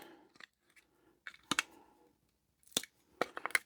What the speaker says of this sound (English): We can access the transformer and snip the wires.